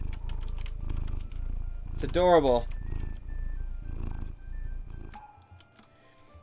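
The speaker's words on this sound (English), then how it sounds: "The purring snake has adopted somebody." A purring snake in Masterwork Dwarf Fortress gives a continuous low purring rumble under a person talking, with a brief rising game chime partway through.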